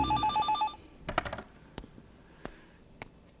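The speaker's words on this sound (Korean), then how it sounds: "어디론가 전화를 거는 군 당위원회 관계자." A telephone rings with a steady electronic trill at the start, then stops, leaving a few scattered clicks and taps like handset handling or keypresses, at moderate volume in a quiet room.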